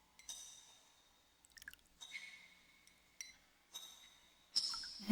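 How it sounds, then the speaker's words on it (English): Lavender and citrus peel bath oil dribbles into bathwater in a few soft separate trickles and drips with faint glassy clinks, quiet and intimate against near silence. "Let me pour some of this oil in."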